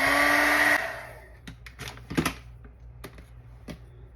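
A hair dryer dries paint on an altered playing card, blowing steadily for under a second before switching off, followed by light tapping and handling sounds.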